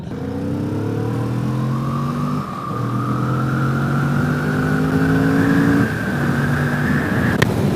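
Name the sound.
2022 Kawasaki Vulcan S motorcycle engine accelerating to high RPM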